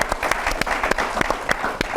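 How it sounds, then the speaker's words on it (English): Applause from a live audience at a panel show, loud and close, with scattered sharper claps standing out from the steady clatter. "put your hands together for him"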